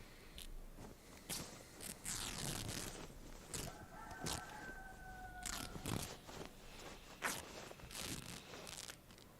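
A chicken in the video game DayZ gives a faint, distant crowing call amid crunching footsteps and rustling, heard quietly in the background with no talk.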